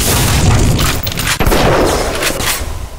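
A shotgun in the video game BioShock fires loud, booming blasts with a heavy low-end thump, followed by the mechanical clack of the pump action, with no talking.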